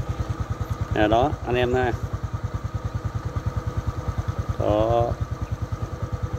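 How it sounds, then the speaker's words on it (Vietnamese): A motorcycle engine idles after a tune-up in An Giang, a close, steady rapid putter that runs evenly throughout while someone talks over it in short bursts. "anh em thấy là máy rất là êm"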